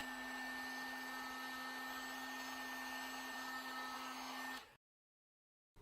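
A hair dryer or heat gun blows a steady whining hum while heating the screen edges of a Google Pixel 2 XL to loosen the adhesive, then cuts off abruptly near the end.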